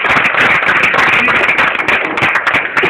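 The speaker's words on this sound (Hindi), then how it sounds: "हम उनके नाम पे तालियां बजाते हैं" An audience claps loudly and steadily in honour of Chandrashekhar Azad, a dense burst of many hands close by that keeps going without a break.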